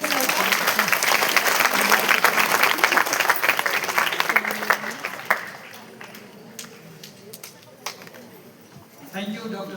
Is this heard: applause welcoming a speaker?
yes